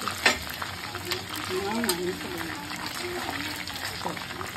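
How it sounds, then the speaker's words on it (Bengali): Chili chicken frying in a pan while a spatula stirs it, a steady close sizzle with scraping strokes and brief stirring clatter, under light talk. "মা একটু নাড়ানাড়ি করছে খুন্তি দিয়ে।"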